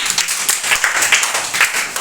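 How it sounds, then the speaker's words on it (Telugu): A second-grade class of children claps together after an oral Telugu revision answer, a scattered burst of quick, fairly loud hand claps lasting about two seconds with no talking. "Very good, claps."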